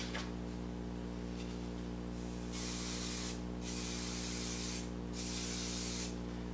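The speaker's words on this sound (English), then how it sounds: "So I'll take a little bit of spray adhesive" Spray adhesive from an aerosol can is applied onto a sander pad in three sustained hissing bursts after a short first puff, close and steady over a low background hum.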